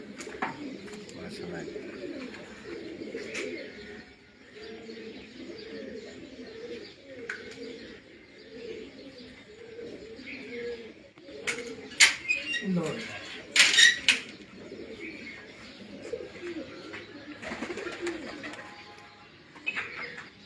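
Pigeons coo nearby in a soft, repeating rolling rhythm for about twenty seconds, with a few chirps and sharp clicks or wing flutters breaking in partway through.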